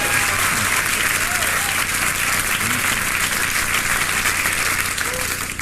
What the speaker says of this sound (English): I waited for you to applaud